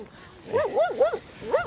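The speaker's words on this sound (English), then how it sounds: "Ooh, we got some puppy friends." A dog, met on a walk, gives a few short barks and yelping calls close by, loud and spaced out in brief bursts.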